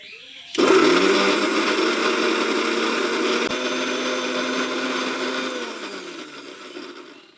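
A motorized grinder jar starts abruptly and whirs steadily, grinding neem leaves into a fine paste for homemade soap, its high whine holding for several seconds before easing off.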